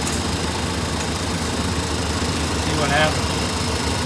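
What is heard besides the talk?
Chevrolet square body truck engine idling while warming up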